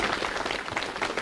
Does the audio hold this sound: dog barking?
no